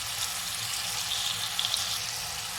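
Raw minced meat kebabs frying in oil in a pan over medium heat, a steady close, even sizzle with faint crackles throughout; no talking.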